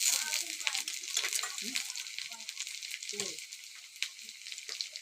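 Onion frying in oil in a pan, with ginger-garlic paste about to be added, crackles and sizzles up close in irregular bursts while a person talks over it.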